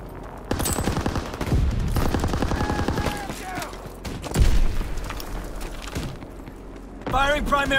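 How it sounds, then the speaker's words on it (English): Aircraft strafing gunfire in Call of Duty WWII: bursts of rapid machine-gun fire with booming impacts, loud and close, broken by gaps, with radio-style voices talking over parts of it. "Pilot inbound, strafing the target."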